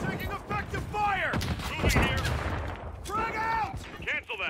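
Gunfire in Modern Warfare III on PlayStation, a steady stream of rapid shots and bursts, fairly loud, with voices calling out over the firing.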